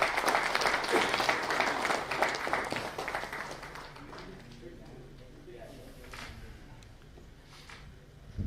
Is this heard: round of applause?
yes